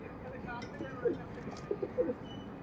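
Pet pigeons being shown for sale give soft, low cooing calls in a few short bursts close by, under a man's speech.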